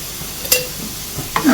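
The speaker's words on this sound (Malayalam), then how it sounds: "ഇളക്കി മിക്സ് ചെയ്യാം" Pineapple pieces stirred in ghee with brown sugar in a pan: a low simmering sizzle with a couple of brief spoon scrapes, near and short, no voices.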